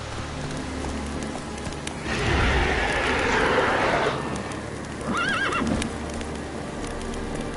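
A horse in a PS4 video game gives a loud whinny and later a second shorter neigh, with hoofbeat clip-clop and steady game ambience running underneath.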